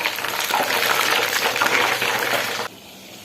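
Lemon pieces and mustard seeds cooking in hot oil for a homemade pickle give a loud, dense, bubbling sizzle close by. It stops abruptly near the end and leaves quiet room tone.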